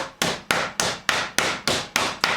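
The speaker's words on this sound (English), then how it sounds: "you're just going to pound it till it's about 1/4 inch to about 1/8 of an inch" Pork tenderloin pounded thin with a meat mallet, nine sharp evenly spaced thwacks in a steady rhythm, loud and close, each hit fading quickly, with no voices.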